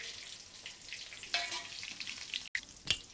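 Ginger paste and green chillies fry in hot oil in a wok, giving a soft, steady sizzle with a few brief louder bursts as the mixture is stirred.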